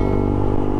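A Suzuki Gixxer motorcycle engine runs at high revs on a ride, giving a loud, continuous, close-up growl with a steady tone throughout.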